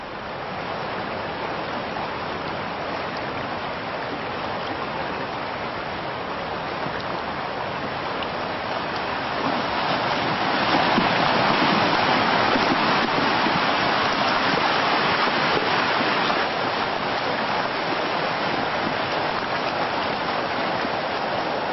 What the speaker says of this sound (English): It's the full force of Yosemite Creek, which can be up to, say, 100 cubic feet per second.